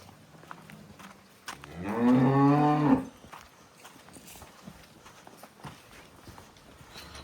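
A cross-breed Cholistani Friesian dairy cow with a calf lets out one loud, close, drawn-out moo in the middle. Quiet shuffling and faint hoof sounds come before and after it.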